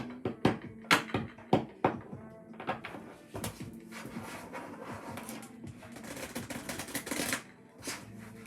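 Romance angel cards shuffled close up in quick riffling bursts, crisp flutters and taps at first, then a continuous softer shuffling rustle that stops near the end.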